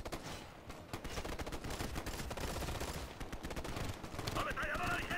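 Light machine gun fire from the Ghost Recon: Future Soldier video game rattles in dense, sustained rapid bursts, filling the scene with continuous battle noise.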